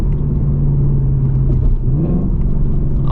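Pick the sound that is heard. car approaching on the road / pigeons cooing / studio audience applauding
car approaching on the road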